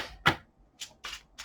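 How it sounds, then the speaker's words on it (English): Tarot cards shuffled by hand up close, a few quick papery riffles and soft card slaps in short bursts, fairly quiet and without speech. "So I'm going to start off with just pre-shuffling."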